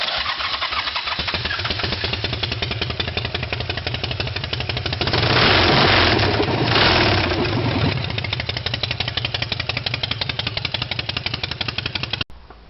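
A Harley motorcycle with an S&S 145 cubic inch engine starts up and settles into a loud, close, rapid thumping idle, with a brief swell of revving in the middle before it drops back to a steady lope.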